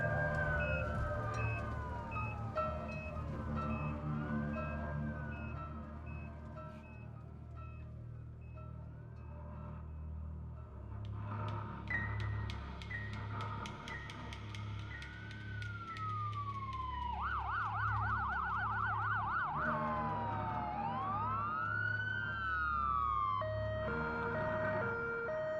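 Ambulance siren wailing continuously from inside the moving vehicle, with sweeping rising-and-falling tones that shift into a rapid yelp pattern, loud and steady over road rumble, no talking.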